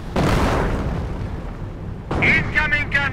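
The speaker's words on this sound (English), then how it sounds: "Commencing barrage." Artillery barrage in the Company of Heroes strategy game: a deep rumbling blast that rolls and fades, followed by a second impact as a voice speaks over it.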